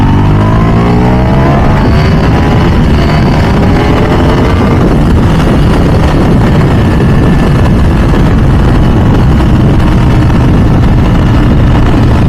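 A Ducati V4 SP2 motorcycle engine accelerating hard, a loud continuous roar with rising pitch sweeps, heavy and close with wind noise, no talking.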